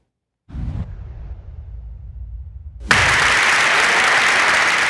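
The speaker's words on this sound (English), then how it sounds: "Applause breaks out inside the Longmeadow High School auditorium Tuesday night." Inside the Longmeadow High School auditorium on a Tuesday night, a crowd breaks into loud, sustained applause after voting down a proposed gas line; a brief muffled rumble comes first, then the clapping bursts in abruptly and holds steady.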